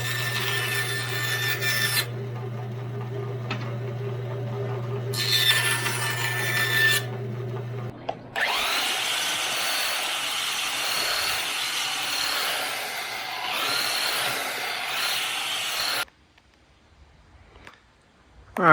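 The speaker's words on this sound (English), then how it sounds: "I'm gonna trim them with the bandsaw and then belt sand them flat" Salvaged wood is trimmed on a bandsaw with a steady mechanical hum and rasping cut, then a belt sander grinds across the boards in a continuous rough whir before stopping, leaving near silence.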